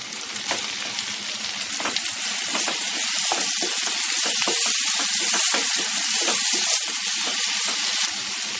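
Ginger-garlic paste sizzles and spits in hot oil with browned onion as a spoon stirs it around the pan, a steady close frying hiss broken by scraping strokes, with no talking.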